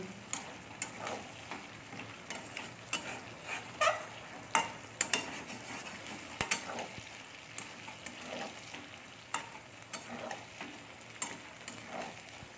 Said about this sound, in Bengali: এবার এটাকে আমরা ভালো করে নেড়ে নামিয়ে নেব